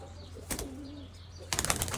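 A handsome pigeon, red-coloured with black wings, gives a brief burst of wing flapping near the mic, followed by a second longer flutter with faint low cooing in between; no talking.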